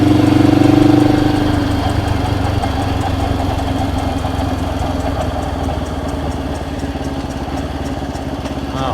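A rare blue Honda CL77 Scrambler motorcycle runs steadily at a close, even idle with a buzzing, pulsing mid-range engine note and no talk.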